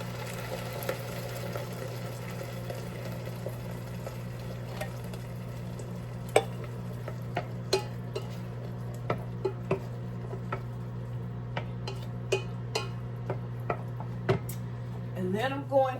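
Black beans are stirred into a beef rib chili in a pot, with soft scraping and scattered clinks of a utensil against the pot over a steady low background hum, quiet and close.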